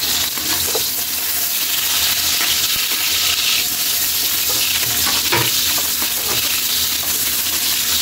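Garlic and onion sautéing in a pan for chicken tinola, a loud, close, continuous sizzle with occasional stirring scrapes and no voices.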